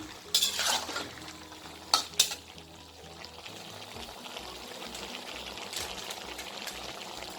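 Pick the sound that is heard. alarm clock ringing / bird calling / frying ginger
frying ginger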